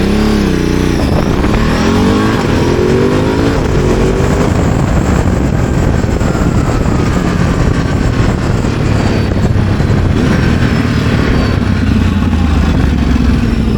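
A Ducati Desert X motorcycle engine rumbles steadily and loudly up close, with a brief rising rev near the start and a continuous low drone throughout.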